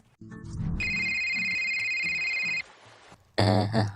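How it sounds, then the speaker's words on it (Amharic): A phone rings with a steady electronic tone for about two seconds over background rumble, followed by a loud burst of noise. "ስልክህ እየጠራ ነው፣ አታነሳም?"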